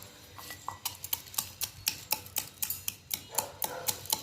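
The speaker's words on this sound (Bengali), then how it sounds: "এগুলো সব এখন এই আমল দিস্তাটায় ছোট আমল দিস্তাটায় একটু ক্রাস্ট মতো করে নেব" Whole spices such as black and green cardamom, cinnamon and cloves are crushed in a small mortar and pestle, producing a quick run of sharp, close knocks and clinks in an irregular rhythm.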